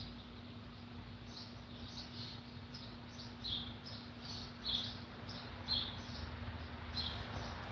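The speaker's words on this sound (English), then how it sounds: "I also like when I can hear the birds in the background chirping." Birds chirp faintly outdoors in the background, a few short, sparse tweets spaced a second or so apart over a steady low hum.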